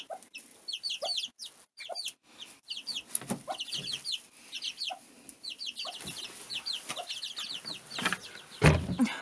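Several chickens cluck and chatter nearby in short, irregular bursts, with occasional louder squawks, outdoors in a yard with patches of snow.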